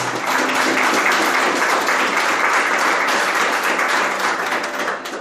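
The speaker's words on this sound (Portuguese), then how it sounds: "Pode aplaudir para valer." A large audience at a Catholic religious talk breaks into sustained, dense applause that holds steady for several seconds and then starts to fade near the end.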